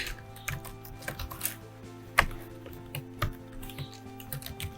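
Keys clack on a computer keyboard while a variable name is typed into Python code, a sparse run of soft, close taps with irregular spacing and one sharper click standing out, heard alone in a quiet room.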